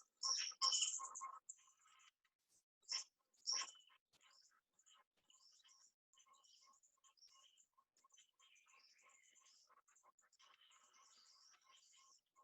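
A bird calls in a Costa Rica cloud forest, a few loud, sharp chirping bursts up front and then faint, steady ticking notes continuing quietly in the distance.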